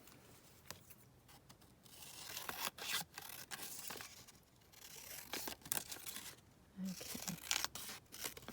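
Scissors snip and tear through background papers for an art journal page, a run of crisp cutting and crinkling noises close by, with one short spoken word partway through.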